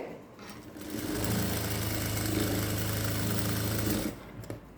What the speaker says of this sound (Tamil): ஒரு 1/4 இன்ச்சில் தையல் போடுங்க. டபுள் ஸ்டிச் போட்டுக்கோங்க